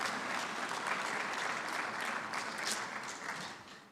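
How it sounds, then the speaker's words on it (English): Steady, dense applause from a large conference audience in a main hall, sustained throughout and tapering slightly at the end. "Please, a round of applause."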